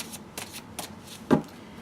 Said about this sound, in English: the deck I am shuffling right now is the Celtic Dragon Tarot